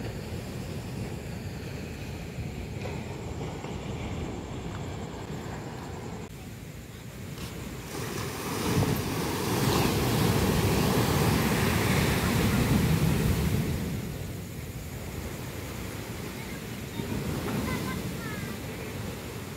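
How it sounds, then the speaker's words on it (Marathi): Sea waves break on Shrivardhan beach at night, a low, steady surf roar that swells to a louder wash midway before easing, with wind buffeting the microphone. "इथे समुद्राच्या लाटांचा आवाज येत होता."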